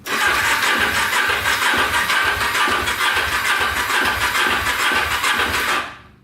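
A Kawasaki Ninja sport bike engine cranks on the electric starter with a rapid, rhythmic churning, loud and close, continuing for about six seconds before fading out without settling into an idle.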